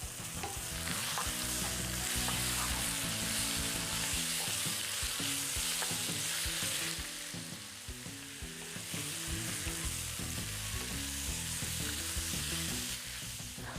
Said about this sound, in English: I let the garlic cook for about 30 to 60 seconds, and then I added in the chicken.